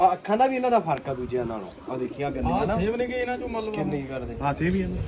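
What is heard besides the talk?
None of the usual background noises is heard.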